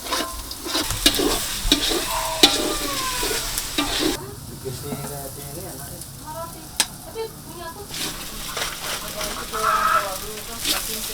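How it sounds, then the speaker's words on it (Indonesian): Bee larvae and honeycomb stirred into cooked spices sizzle and crackle steadily in a hot pan, with scraping stir sounds, a brief quieter stretch, chickens clucking nearby and some background voices. "Anak dan sarang lebah langsung dicampurkan saat bumbu sudah matang dan dimasak sebentar."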